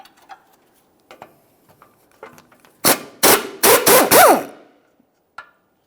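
Several sharp metallic clicks and grinding pulls of a 17mm wrench working a control arm bolt on a 2008-2017 Mitsubishi Lancer's front suspension, a close burst of ratcheting effort after a quiet stretch of faint handling noises.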